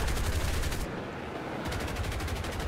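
Aircraft guns firing during a British RAF Lincoln bomber formation fight in War Thunder, loud rapid machine-gun bursts with a short pause in the middle before firing resumes.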